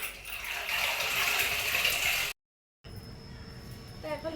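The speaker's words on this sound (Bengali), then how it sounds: "এগুলো সব এখন আমাকে ধুতে হচ্ছে" A mother's sari and blouse are hand-washed in water, a steady near rush and splash that cuts out briefly, then resumes more quietly with faint sloshing and a voice speaking.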